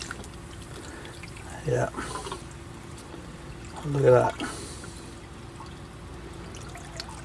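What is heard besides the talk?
emptying salty water out of a container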